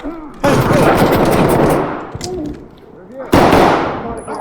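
Loud gunfire in the tactical police shooter Ready or Not, with two sharp bursts of shots, one at the start and another near the end, each ringing out and decaying. Game sounds fill the gap between them.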